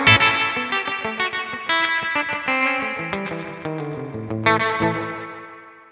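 An electric guitar plays a quick run of notes and chords through a Wampler Mini Faux Spring Reverb pedal, with a drippy spring-style reverb tail ringing after each note, without any voices.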